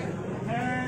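A sheep on a livestock farm gives a short bleat in the second half, heard faintly against farmyard background noise.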